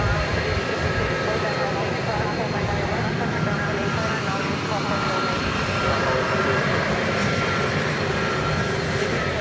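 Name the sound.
Airbus A300 jet airliner at DFW Airport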